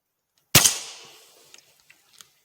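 A sharp single report from a tuned Gamo Urban air rifle fired at a 100-yard target, loud and close, with a quick decaying tail and a few faint clicks after.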